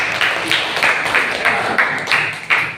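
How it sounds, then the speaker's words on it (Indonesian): Rhythmic group clapping from students in a classroom lesson, about eight steady, unison claps that keep an even beat, close and fairly loud. "Tepuk tangan."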